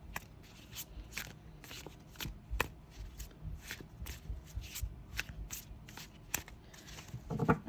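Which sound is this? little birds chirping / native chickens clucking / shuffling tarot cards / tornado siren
shuffling tarot cards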